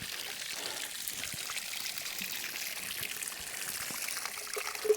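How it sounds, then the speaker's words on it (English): Spring water pouring steadily from a mountain spring in snowy backcountry wilderness, a continuous soft trickling splash, fairly close and alone. "I'm going to fill up here at the spring and then use my filter here to get some nice clean water"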